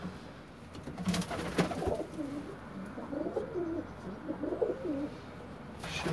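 Domestic pigeons in a loft coo softly in a series of low, rolling calls. They sound faint and somewhat distant, with a few light knocks among them.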